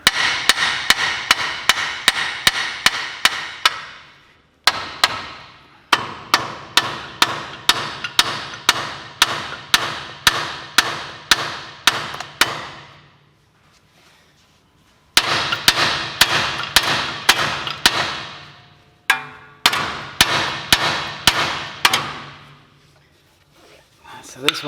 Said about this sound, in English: we're going to take a hammer and give it a whack or two